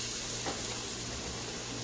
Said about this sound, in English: So we're adding our garlic